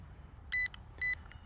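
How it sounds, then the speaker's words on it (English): Two short, high electronic beeps from a Garrett Pro-Pointer II metal detector pinpointer powering on, about half a second apart, clear over a quiet background. "You'll hear 2 beeps when it powers on"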